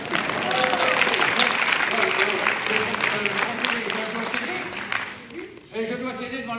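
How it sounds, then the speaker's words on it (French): Applause from an audience, steady broadband clapping that carries for about five seconds, then thins out as a person starts talking. "Bravo, on l'applaudit bien fort"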